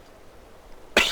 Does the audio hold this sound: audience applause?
no